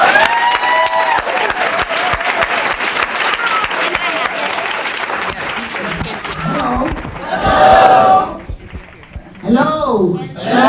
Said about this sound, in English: We're going to give her a really resounding applause.